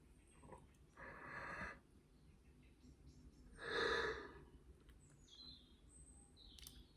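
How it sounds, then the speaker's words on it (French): A drawn-out yawn with breathy exhalation, heard as two separate swells around one and four seconds, fairly quiet in a calm room with faint chirps in the background and no talking. "Pas une vidéo sans bâillement."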